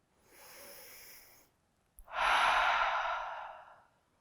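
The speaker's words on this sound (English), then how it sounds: "Take a big breath in through the nose and out through your mouth." A slow deep breath in through the nose, soft and steady, then after a brief pause a louder, fuller exhale out through the mouth during a morning yoga practice.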